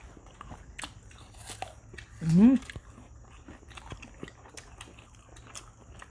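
Crunchy fried chicken wings get bitten and chewed up close in sharp, crisp crunches, with a short burst of speech partway through and quiet mouth sounds in between.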